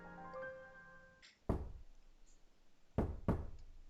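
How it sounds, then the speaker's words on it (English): Knocking at a door in the visual novel Chaos;Child comes as a faint musical tone, then a single hard knock, a pause, and two more knocks in quick succession, close and isolated. "There was a knock at the door."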